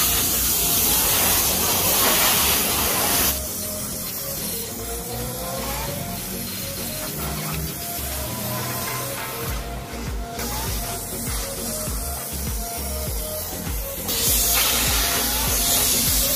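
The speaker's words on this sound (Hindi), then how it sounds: "अच्छा जी, ये अब डीजल लगा रहे हैं बाइक को" A steady hissing spray of diesel coats a motorbike at a service station, a continuous loud blast that briefly cuts out mid-way and resumes, with mechanical background noise underneath.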